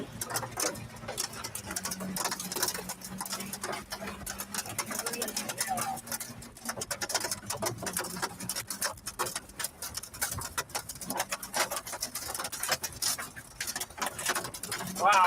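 Hail pounding down during an Oklahoma storm, a dense, rapid, irregular patter of sharp impacts that clatters on steadily and loudly throughout, with a low hum faintly beneath.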